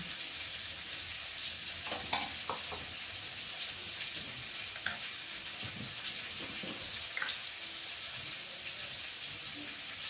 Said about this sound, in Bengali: আলুটা একটু লাল লাল করে ভেজে দেবো